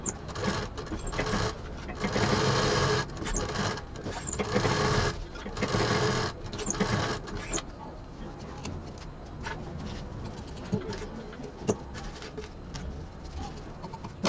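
A sewing machine stitches close along the fabric edge of a handbag, running in steady bursts for several seconds before falling to a quieter, intermittent patter.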